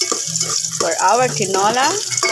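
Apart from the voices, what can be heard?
ginger sizzling as it is sautéed in a pan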